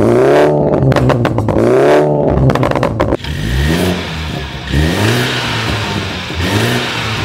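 A BMW F30 320i with a 2.0 turbo engine and Stage 2 tune revs loudly and close. Several rising and falling revs follow one another, then one longer surge and settle, with no talk.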